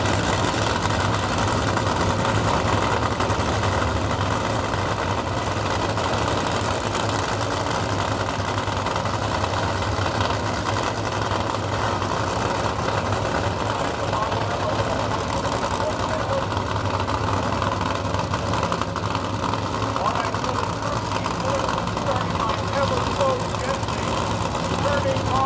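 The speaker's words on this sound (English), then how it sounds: "These are the nitro race cars. Very fast, very noisy." Nitro race car engines idle in a pit area, a steady, loud, low rumble running continuously throughout with voices talking in the background.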